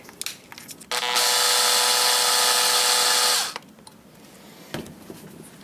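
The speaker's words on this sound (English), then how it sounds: "So now we'll go ahead and put our screws back in." A power drill drives screws back into an RC light bar with a chrome lens, giving one loud, steady high-pitched whir of about two and a half seconds, framed by light handling clicks before and after.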